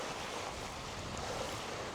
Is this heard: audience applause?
no